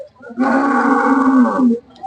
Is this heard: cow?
yes